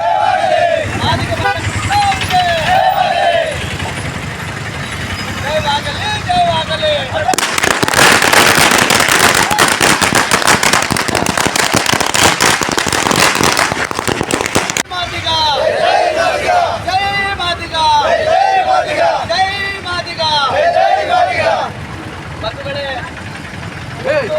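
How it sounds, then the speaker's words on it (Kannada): Firecrackers burst in a dense crackling barrage lasting several seconds at a street celebration in Chincholi, between stretches of loud crowd noise with shouting and cheering voices. "ಚಿಂಚೋಳಿಯಲ್ಲಿ ಮಾದಿಗ ಸಮಾಜದ ಬಾಂಧವರು ಸೇರಿಕೊಂಡು ಪಟಾಕಿ ಸಿಡಿಸಿ ಸಿಹಿ ಹಂಚಿ ಸಂಭ್ರಮ ವ್ಯಕ್ತಪಡಿಸಿದರು"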